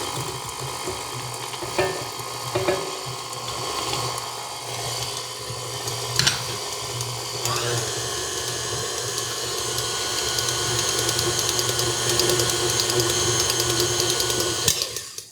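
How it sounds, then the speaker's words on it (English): Flour, baking powder and salt are whirled together in a mixer for peanut butter blondies, giving a steady mechanical whirring hum with scattered clicks and scrapes, rising somewhat louder toward the end. "We're gonna go ahead and mix those in, and we're gonna give them"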